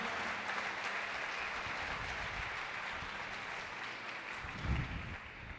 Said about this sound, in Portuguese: Dê mais uma salva de palmas a Ele bem forte